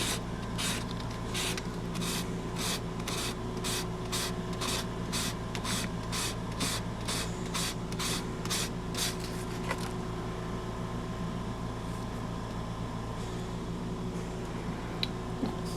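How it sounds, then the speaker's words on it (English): Rhythmic scraping strokes of sanding on the hard plastic top side of a queen-grafting tool, repeating steadily for about ten seconds, then giving way to a steady mechanical hum. "We're sanding on the top side of this where the plunger runs, not on the bottom"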